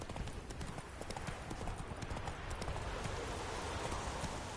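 Horse hooves clip-clop steadily in The Witcher 3 video game, a continuous rhythmic trot of close, clear hoofbeats running throughout against a dense game ambience.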